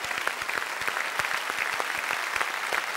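Studio audience applause on the Beyaz Show, a loud steady rhythm of individual claps standing out sharply over the crowd's clapping, continuing evenly throughout.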